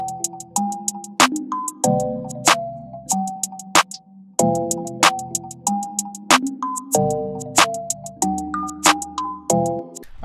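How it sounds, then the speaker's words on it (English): Hi-hats in an FL Studio trap beat glitched and stuttered by the Looperator effects plugin, bouncy irregular ticking bursts over a repeating bell-like melody, played alone without voices. "what I did do to the hi-hats to make it like a bit more interesting is add a looperator"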